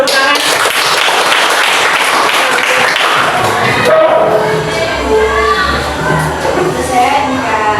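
Classroom applause from students at a teacher-training lesson, loud and sustained clapping mixed with children's chatter, fading into scattered voices and noise in the second half.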